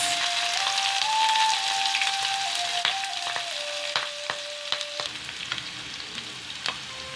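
Green chilies and onions with cumin seeds hit hot oil and fry, a loud bright sizzle that eases off over several seconds, with scattered pops and clicks of the spatula, up close and without talk.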